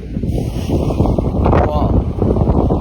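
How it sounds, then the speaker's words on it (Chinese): Strong wind roars steadily across the microphone, a dense, buffeting rush with gusts, at a roadside rest stop in a windstorm. "饭已经吃完了，但是这个风好像一点要停的意思都没有啊！"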